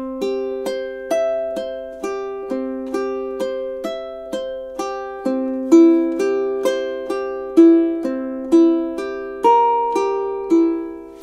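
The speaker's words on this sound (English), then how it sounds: "So if I play those first 4 measures for you, they should sound like this." A high-G ukulele plays the opening four measures of Ave Maria, plucked notes and arpeggiated chords in a steady gentle rhythm, each note ringing and decaying, close and clear with no talking.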